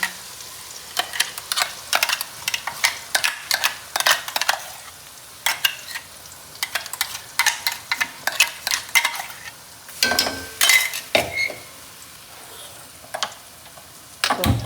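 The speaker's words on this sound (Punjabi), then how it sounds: "ਮੈਂ ਤਾਂ ਹੁਣ ਗੈਸ ਬੰਦ ਕਰਕੇ ਨਾ ਤਾਂ ਪੇਸਟ ਪਾਉਣੀ ਆ ਵਿੱਚ" A spice paste goes into hot oil in a pan on a home kitchen stove with the gas turned off, a sizzle broken by a quick, regular run of loud scraping stir strokes.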